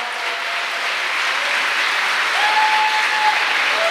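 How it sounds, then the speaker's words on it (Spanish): Loud, sustained applause from a convention congregation welcoming a pastor, a steady close wash of clapping that holds at full strength throughout. "recibimos con un caluroso aplauso al pastor Ricardo."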